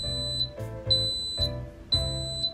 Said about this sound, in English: after a couple seconds, it'll beep like that